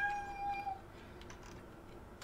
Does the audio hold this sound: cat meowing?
yes